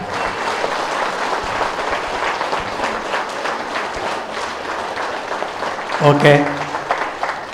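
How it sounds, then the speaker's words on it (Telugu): A crowd at a Patriji birthday celebration in Bodhan applauds in a sustained, fairly loud burst, with a voice speaking briefly over the clapping toward the end. "సార్కి ఒకసారి గట్టిగా క్లాప్స్ కొడదాం,"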